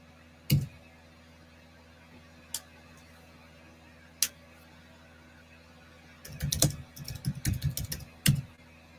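Scattered single keystrokes on a computer keyboard, then a short burst of rapid typing near the end, close but fairly faint against a quiet background.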